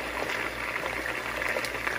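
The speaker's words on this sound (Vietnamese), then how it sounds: "Cho nên mình chỉ chiên sơ như vậy thôi rồi mình trở qua." A salmon head sizzles lightly in hot oil in a pan, a steady close crackle and hiss that holds evenly without pause.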